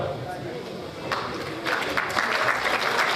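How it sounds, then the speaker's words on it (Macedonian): A crowd breaks into applause that swells and grows louder partway through, steady clapping from many hands in a hall. "Секако заслужуваат аплауз"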